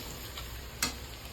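Chopped onions frying with a pinch of salt in a pan, giving a steady, soft sizzle with a single sharp tick partway through.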